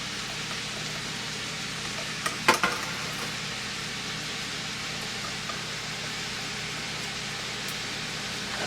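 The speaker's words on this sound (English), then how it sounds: "I love the smell collards when you first put them in the pot to fry them." Collard greens frying in a pot, a steady soft sizzle and hiss throughout with a brief clatter of a utensil near the middle, no talking.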